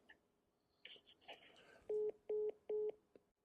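Telephone tones sound on a phone line: three evenly spaced electronic beeps, fairly loud, following some faint rustling and handling noise.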